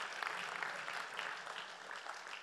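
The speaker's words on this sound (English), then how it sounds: "We'd like you to applause until they sit down." Audience applause at a Nobel laureate panel of a finance association meeting, steady dense clapping heard from within the hall, continuous and moderately loud throughout.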